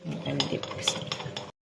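Close, steady stirring of turmeric, dried coriander, cumin, baking powder, garlic and salt in a pot, a continuous scraping with light spoon clinks that ends abruptly.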